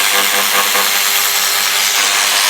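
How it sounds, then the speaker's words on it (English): An auto ratchet drives T30 fasteners on a Vespa scooter while a turn signal kit is fitted, giving a continuous, loud, buzzing whir that holds steady with no pauses and no talking. "I like to use our auto ratchet for all these hard to get to fasteners"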